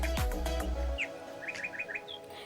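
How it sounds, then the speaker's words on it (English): Bohemian waxwing giving thin, high-pitched calls, a few short rising notes in a quick series after a brief low rumble, fairly faint and alone. "Both male and female Bohemian waxwings are known for their high-pitched calls."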